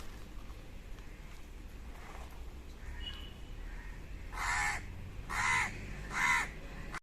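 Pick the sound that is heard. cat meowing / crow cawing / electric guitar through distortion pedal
crow cawing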